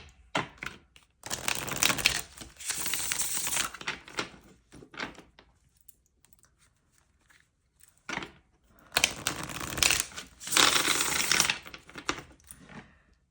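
Brisk riffling and flapping of tarot cards being shuffled in two bursts, separated by a quiet pause, close to the microphone with no talking.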